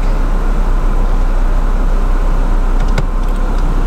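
Car engine running steadily while the vehicle sits in reverse, a constant low hum and road rumble close by, with a brief faint click partway through and no talking.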